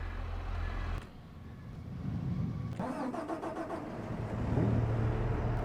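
Tractor engine in Farming Simulator 22 cranking and catching, then settling into a mid-pitched idle that swells slightly louder toward the end, with no talking.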